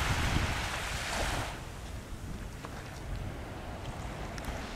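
Strong wind buffets the microphone in a loud, roaring rush, with the wash of sea surf underneath on the Corsican coast; no voices.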